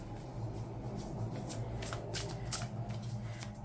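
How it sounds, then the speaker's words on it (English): Tarot cards shuffled by hand in a steady stream of quick riffling flicks, close and clear, with no talk over them. "Shuffle here, we'll see what falls out."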